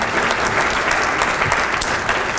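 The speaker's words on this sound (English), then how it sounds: "Right now, you have to applaud" Dense, loud applause fills a room at a regional center legislative breakfast, many people clapping continuously and evenly throughout, close and without breaks.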